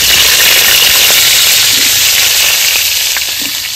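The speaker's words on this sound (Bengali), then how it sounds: "এবার ফুলকপিগুলো ভেজে নেব।" Cauliflower florets frying in hot oil in a pan, a loud, dense and continuous sizzle and crackle that holds steady throughout, with no talk.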